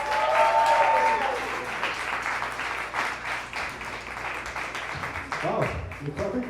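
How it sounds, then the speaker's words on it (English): A bar crowd at a comedy show gives a steady round of applause lasting several seconds, moderately loud, with a voice briefly heard near the end as it tapers. "Wow, you clapping for me?"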